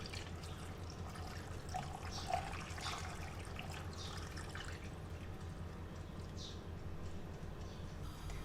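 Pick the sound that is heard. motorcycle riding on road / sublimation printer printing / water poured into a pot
water poured into a pot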